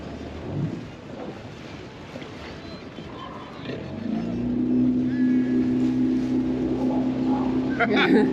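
Steady motorboat engine drone builds and holds loud as about twenty boats motor into a harbor at once near Cabo, Mexico, with wind buffeting the microphone and brief voices in the background.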